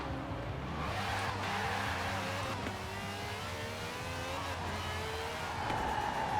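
A Porsche 906 race car in Forza Horizon 4 accelerates hard, its engine droning loud and steady with rising pitch through gear changes and a faint tire squeal, no voices over it.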